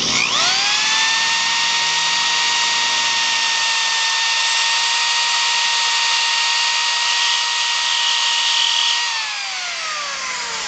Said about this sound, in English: First, score it with the drill at an angle,